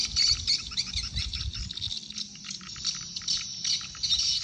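Swiftlet attraction calls played through a speaker at a bird house, rapid high chirping and twittering in dense repeated bursts, moderately close, over low rumbling background noise.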